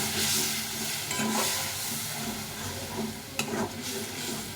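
Cauliflower and duck-egg curry being stirred and sautéed in a pan: a steady, close sizzle with scraping stir strokes and a sharper clatter near the end, no voices.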